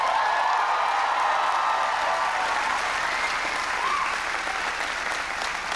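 A large crowd at NC State applauds and cheers during a speech by President Obama. Thick, sustained clapping and cheering fills the whole stretch and eases only slightly near the end.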